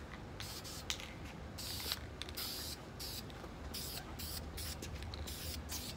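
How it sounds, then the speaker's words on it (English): A paint spray gun hisses in short bursts and longer passes as a light mist coat goes onto a Stratocaster guitar body, close and fairly quiet, with a few mechanical clicks. "Just going to spray a light mist over it."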